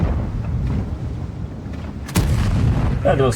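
A tank cannon in World of Tanks fires once with a sharp, loud boom from a Polish tier VIII medium tank, the CS-52 LIS, followed by a rumbling tail over steady engine drone.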